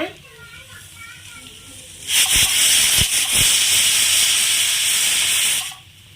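Fish fries in hot oil, a sudden loud hissing sizzle that swells after a quieter stretch, holds for several seconds and then drops away, with voices in the background.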